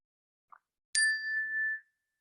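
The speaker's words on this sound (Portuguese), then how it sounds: "Eu vou tocar o sino, dando início a essa prática." A mindfulness bell is rung once to open a meditation practice: a single clear metallic strike with a bright, sustained ringing tone that fades over about a second, heard alone in a quiet room.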